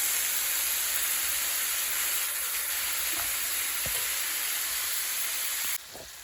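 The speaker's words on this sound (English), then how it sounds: "I'm going to sear these vegetables in with the rib tip." Vegetables sear alongside rib tips in a pan, giving a steady, even sizzling hiss with a few faint knocks, up close and without talk.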